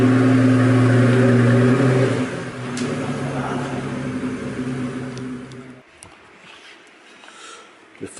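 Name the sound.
Pagani Zonda 760RS engine accelerating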